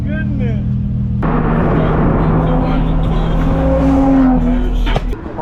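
Loud car exhaust roars and revs at a street car takeover at Ocean Beach, a continuous heavy engine drone with rising pitch sweeps, voices shouting over it.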